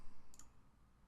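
A computer mouse gives two quick, crisp clicks close together, faint but clean against a quiet background.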